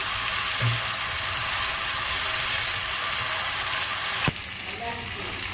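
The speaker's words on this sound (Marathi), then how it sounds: "तेल गरम होणार, आपण त्यामध्ये ही हिरवं वाटण आपण जे बनवलं ते ॲड करतो. त्याला आपण परतून घेणार आहोत." Green masala paste sautéing in hot oil for mutton dum biryani, a steady broadband sizzle running the whole time, with a sharp clack near the end after which the frying continues slightly quieter.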